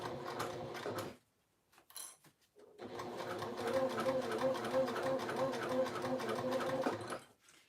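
A sewing machine bastes along the edge of a pouch in two bursts, a short run then a longer steady whirring stretch, close and fairly quiet, with someone talking in the pause between them.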